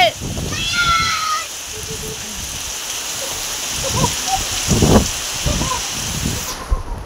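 Rain lashing in through an open kitchen during a heavy downpour, a steady wet hiss of water blowing and splashing across the room, with voices breaking in over it now and then.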